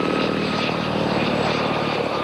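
French military helicopters flying over a crowd, their rotors and engines giving a constant loud whirring roar that stays close and even from start to finish.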